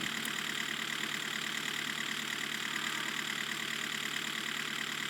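A vehicle called the Workhorse idles in a video game, giving a steady, continuous engine drone with a faint knocking texture. It runs alone at an even level throughout, with no talk.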